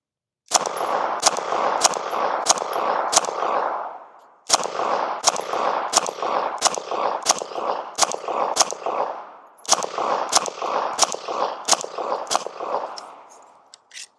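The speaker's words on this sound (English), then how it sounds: "let's go ahead and put some rounds on it and see how well we do" Glock pistol fitted with an S-PRO stabilizer kit fires at a target in three strings of sharp, loud shots, about six or seven each, separated by brief pauses, with reverberant tails after every string.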